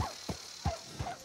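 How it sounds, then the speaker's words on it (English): A dog barks in Red Dead Redemption 2 near a small farm: four short, fairly faint barks spaced unevenly, standing alone without talk. "I hear a dog."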